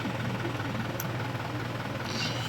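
An Isuzu Elf truck engine runs at a steady idle, a constant low rumble with a faint mechanical knock, with no talk and no change in pitch.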